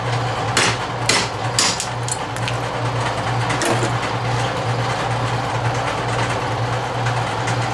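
Hammer blows ring against a piece of metal on a scrapped washer motor with an aluminum housing, several sharp strikes in the first four seconds over a steady low hum, with no talking.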